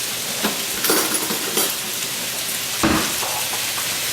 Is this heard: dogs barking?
no